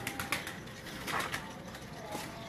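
Pigeons in a breeder's loft coo softly in short, repeated low calls, with a brief flutter of wings, heard close by and fairly quiet without speech.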